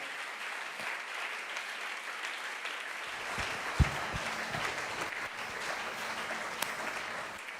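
A church congregation claps and applauds together in sustained acclaim of the Lord, a dense, steady wash of hands with a few sharper claps, no voices standing out.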